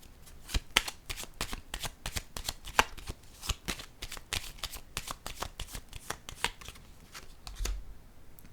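A deck of cards is shuffled up close, with many crisp riffling bursts in quick succession over about eight seconds and no talk.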